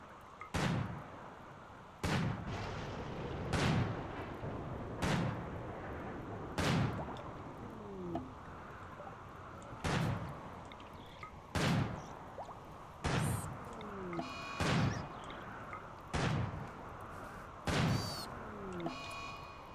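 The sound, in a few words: rifle shots in a video game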